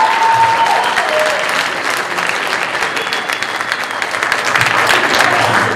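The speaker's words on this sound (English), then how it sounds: "Round of applause for the young lady." Sustained, loud audience applause at an illusionist's stage show at Jefferson College, a dense even wash of clapping from a large crowd with little talk.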